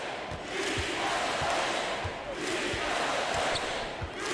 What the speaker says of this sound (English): feeding off the energy of this hometown crowd really all night